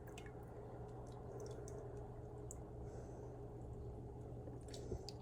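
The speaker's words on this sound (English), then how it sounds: "So every time I'm putting my hand in the water and then turning the clay" Soft, close squishing and dripping as a hand pulls a wet clay mug handle dipped in water. The sound is quiet and continuous, with no voice over it.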